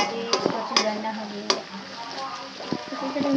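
Ginger, garlic and onion frying in a pan, a steady close sizzle broken by several sharp scrapes and clanks of a spoon stirring against the metal.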